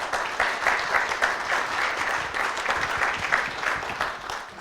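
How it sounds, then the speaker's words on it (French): An audience at an award ceremony for buyers applauds with steady, dense clapping that holds fairly loud throughout and then tapers slightly. "Grands applaudissements pour Monsieur Laurent Lénard."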